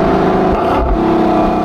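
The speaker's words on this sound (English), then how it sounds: "listen to these downshifts." A Lexus LC convertible's engine revving loudly up close as the gearbox downshifts, a continuous strong engine roar with a short break in tone at the shift and no talk over it.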